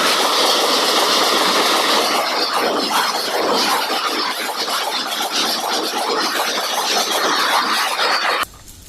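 A jumbo ten-wheeled toy Thomas-style engine runs with a steady, loud rattling clatter of clacking wheels and motor whir, continuous for about eight seconds before cutting off abruptly near the end.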